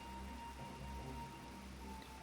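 Rainfall in Final Fantasy XIV gives a continuous, even patter beneath a low musical drone, steady and fairly close throughout the short stretch.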